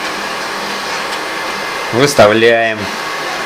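A construction heat gun set to 450 degrees warms rice. Its steady blowing roar runs throughout while someone speaks briefly over it.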